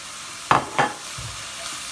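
Beef mince with tomato puree cooks in a pan, two short scraping stirs followed by a low, steady sizzle, close and fairly loud with no talking.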